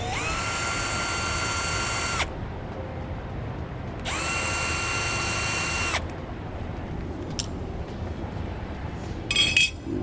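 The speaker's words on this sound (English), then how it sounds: "I'm going to use my drill bit to mark my holes." Power drill boring holes to mount a bracket for an RV flat-tow air brake system, two loud sustained bursts of high whirring of about two seconds each, separated by a pause, followed by faint clinks, close and without speech.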